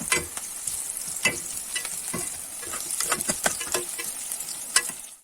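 Ingredients frying in a pan until golden for a shaljam gosht turnip and meat curry, with a continuous soft sizzle broken by frequent crackles and spatters and occasional stirring scrapes, close and fairly quiet, no talk.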